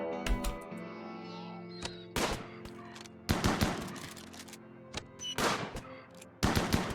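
Chain shotgun fire in the Rimworld video game: several sharp, loud bursts of gunfire in uneven clusters, standing alone with no talk over them.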